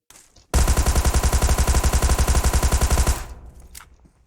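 Automatic rifle fire in the mobile game PUBG Mobile rattles out as one loud, continuous rapid-fire burst lasting about two and a half seconds, then stops abruptly.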